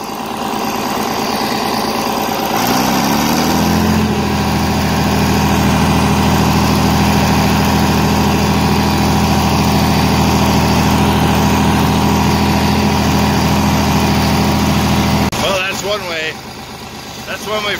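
A small tractor engine idles steadily with a low, even drone throughout, then revs briefly near the end before quieting.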